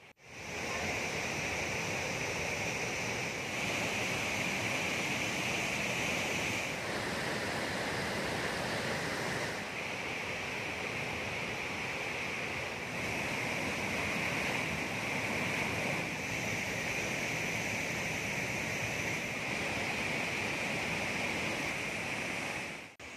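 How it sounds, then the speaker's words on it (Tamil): Floodwater roars over Thirparappu waterfall, overflowing the swimming pool and swamping the base of the stone mandapam: a loud, steady, close rush of broadband water noise that holds without pause. "திருப்பரப்பு அருவியில் வெள்ளம் பெருக்கெடுத்து நீச்சல் குளத்தை மூழ்கடித்து கல் மண்டபத்தின் கீழ்ப்பகுதியை மூழ்கடித்து செல்கிறது"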